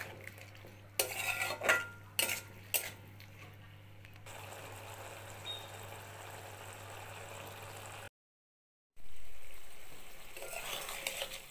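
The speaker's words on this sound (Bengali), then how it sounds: "সরষে বাটা দিয়ে ভালোভাবে মিলিয়ে নেব। জল শুকনো পর্যন্ত ফুটিয়ে নেব।" Malabar spinach stems and winter vegetables are stirred with mustard paste in a pan, bringing several clattering spoon-on-metal strokes, then a softer steady bubbling hiss, a short silent break, and a louder hiss after it.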